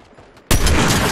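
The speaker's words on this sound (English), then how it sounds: "they're shooting at me, like turds" Gunfire in the Fortnite video game: after a quiet half-second, a loud burst of shots erupts and continues as a sustained, close barrage.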